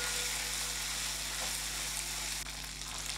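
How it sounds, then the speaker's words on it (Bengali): Ginger paste with turmeric fries in hot oil, a loud, continuous crackling sizzle with spattering and stirring close up. A faint steady hum sits underneath, and no one speaks. "আদা বাটাটা দেওয়ার পরে ভীষণভাবে তেল ছিটকাতে থাকে"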